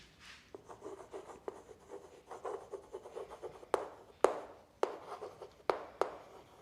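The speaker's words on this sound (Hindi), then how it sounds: "मैं यहाँ पे लिखता हूँ" Someone writes on a board during a physics lesson, producing quiet rhythmic scratching strokes that build into sharper taps and squeaks toward the end, close and alone without talk.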